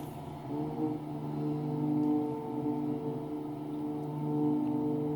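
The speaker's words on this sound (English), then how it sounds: "So now I've got both engines back." Twin piston engines of a Baron aircraft in the X-Plane flight simulator drone steadily, their layered tones swelling and easing slightly, alone.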